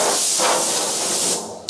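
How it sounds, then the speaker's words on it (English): An old metal locker cabinet is dusted off before painting with a sustained airy hiss of blown air or spray, loud and close and continuous, tapering off near the end with a brief final burst. "I'm going to dust off the cabinet one more time."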